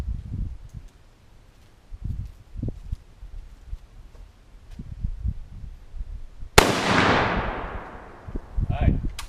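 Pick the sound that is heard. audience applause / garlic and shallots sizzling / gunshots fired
gunshots fired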